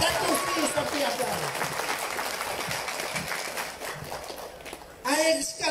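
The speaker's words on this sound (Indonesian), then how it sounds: "Mari kita tepuk tangan menyokong penuh kepada presiden kita" Crowd applause at a Warisan parliamentary tour event in Beluran honouring a president, a broad steady wash of clapping running throughout, with voices mixed in and a brief louder burst near the end.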